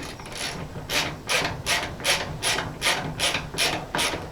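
Hand ratchet driving T40 Torx bolts salvaged from a junkyard Jeep during a YJ build, a close, steady run of rhythmic clicking ratchet strokes, roughly two or three per second, with no voices.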